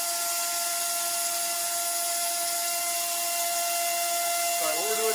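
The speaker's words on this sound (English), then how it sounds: "what we're doing now is we're milling the pockets that the boxes are going to sit in" A milling machine with coolant running cuts pockets into aluminum, giving a steady, loud high whine with sustained tonal hum throughout, and a brief pitch shift near the end.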